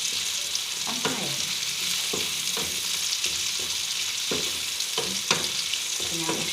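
Tomatoes and onion frying and being stirred in a pan for an ampalaya (bitter melon) dish, a steady close sizzle broken by repeated scraping strokes of the spoon, with no talking.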